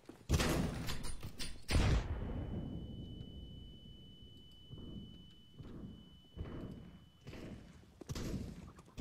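A grenade going off in CS:GO, with two sharp, loud bangs early on and a long ringing tone after, followed by softer thuds and a voice talking.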